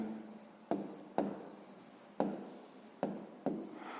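A pen writes by hand during a sixth-grade math lesson, close scratchy strokes arriving in short repeated bursts with brief gaps, quiet and without talk.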